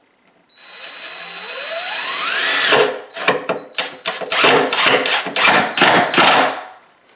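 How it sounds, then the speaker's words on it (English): A power tool spins up with a rising whine while a subwoofer box is being installed for a home audio setup, then gives way to loud, choppy bursts of drilling and rattling that stay close and steady. "now that all the drilling is done"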